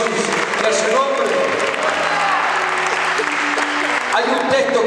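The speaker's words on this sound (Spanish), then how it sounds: "Denle fuerte ese aplauso a Jesús" Loud, continuous applause from a church congregation clapping for Jesus, with voices mixed into the clapping throughout.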